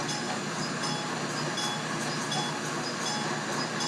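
A simulated TMCR-840CW locomotive in Trainz, restored in Conrail livery, running with a steady, dense rumble and broadband rail noise that holds even throughout.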